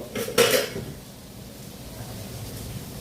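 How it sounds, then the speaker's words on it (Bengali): Koi fish being turned in a pan of simmering cumin-chili curry, heard as a brief clatter of a utensil against the pan near the start, followed by a quiet bubbling simmer. "মাছগুলো উল্টে দেব"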